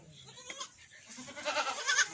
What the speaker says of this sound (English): These are the sheep and goats.